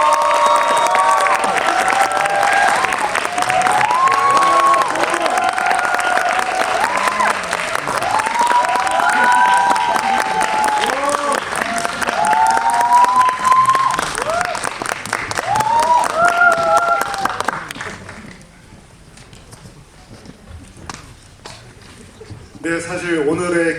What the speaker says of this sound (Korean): 오늘의 게스트분들 큰 박수로 맞이하겠습니다.